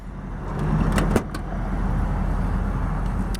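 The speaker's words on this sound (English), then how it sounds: "Also the soft close on the trunk, also in proper working order." The power soft-close trunk on a 1997 Mercedes-Benz S500 W140 pulls shut with a low motor hum, then gives a brief latching clunk, close by with the steady whir continuing afterward and no talking.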